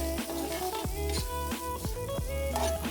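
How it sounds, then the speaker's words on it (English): Tofu chorizo coated in a dry rub sautés in a pan. It gives a steady sizzle with repeated scraping stirs over a faint musical background. "Saute just to mix this up."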